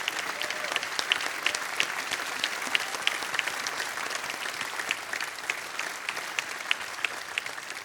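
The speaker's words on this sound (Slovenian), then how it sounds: "Barbara, dajmo en aplavz za njo." Sustained applause from an outdoor summer-night concert crowd at a wind band performance, with dense continuous clapping and a few sharper individual claps standing out.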